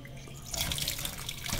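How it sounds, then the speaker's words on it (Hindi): Running tap water pours over bitter gourd being washed in a kitchen sink, a steady splashing flow that swells louder after a brief softer start and continues without any voices. "अब इसे मैंने पानी के साथ अच्छी तरह धो लेना है तकरीबन 4 से 5 बार"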